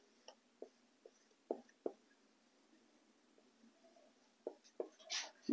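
A pen writes by hand on paper, producing faint, scattered scratching strokes and taps at an irregular pace, quiet and close, with a slightly longer scribble near the end.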